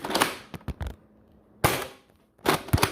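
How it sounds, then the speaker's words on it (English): A Nerf Hyper Evolve-100 blaster fires at a target in three separate bursts of rapid, sharp pops, each burst loud and close with brief quiet gaps between. "we got the blaster loaded, and let's go ahead and shoot some at the target there."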